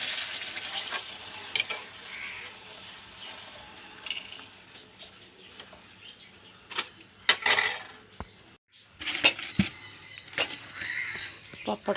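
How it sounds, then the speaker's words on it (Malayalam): Pappadam fries in hot oil with bursts of crackling sizzle and sharp clatters from handling, uneven and close, pausing briefly near the middle before resuming. "എണ്ണ വെച്ച് പപ്പടം വറക്കാം."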